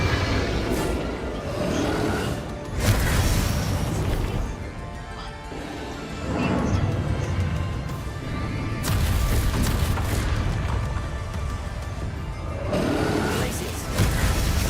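Confringo blasting spells in Hogwarts Legacy go off in a dense run of loud crashing booms and smashes, several heavy bursts rolling one after another over a constant din of game noise, with a voice speaking intermittently underneath.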